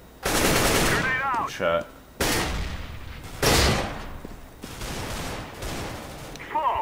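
Bursts of rapid automatic gunfire in CS:GO come in several loud volleys separated by short gaps, with players talking briefly between the shots.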